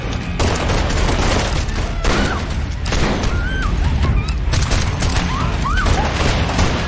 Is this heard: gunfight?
yes